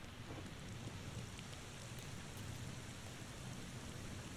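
Steady rain pours without a break in the video game The Thaumaturge, a dense, even hiss filling the scene, with any thunder blended into a low continuous rumble beneath it.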